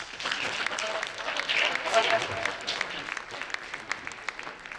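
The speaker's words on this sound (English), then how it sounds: "So please give another round of applause." Summit audience clapping in a broad room, a steady spread of many hands that swells and then tapers off, with some talk underneath.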